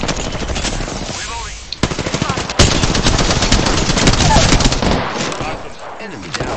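Video game gunfire in a multiplayer shooter: rapid automatic bursts and single sharp shots, loud and near, mixed with a player's excited voice.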